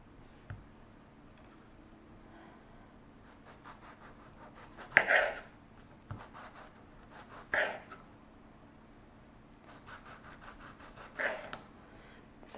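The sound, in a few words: knife slicing a Cuore di Bue tomato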